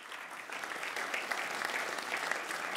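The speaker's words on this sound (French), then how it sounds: "Je vous propose qu'on les applaudisse aussi." A steady wash of audience applause fills a hall for the cadets at a Dien Bien Phu colloquium, dense and even but fairly soft, as if heard from some distance.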